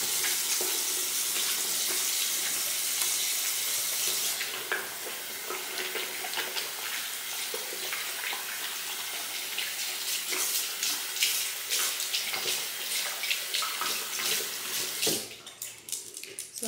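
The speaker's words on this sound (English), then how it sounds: "So I'm gonna wash my hands." A bathroom tap runs for hand washing before a night-time facial routine, a loud steady rush of water that shifts to a more broken splashing as hands move under the stream.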